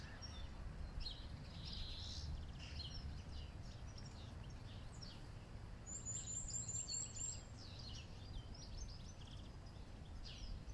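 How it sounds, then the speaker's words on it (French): Birds chirp and sing faintly in the distance over a low, steady outdoor rumble in a garden, with scattered calls throughout. "On laisse le chant des oiseaux."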